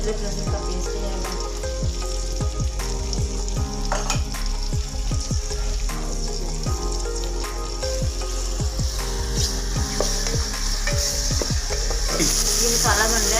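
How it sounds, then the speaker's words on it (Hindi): Ginger garlic paste sizzles and fries in ghee in a pan with steady loud crackling and a run of quick stirring scrapes and clicks, close up and without speech. "अब इसमें अदरक लहसुन का पेस्ट जाएगा।"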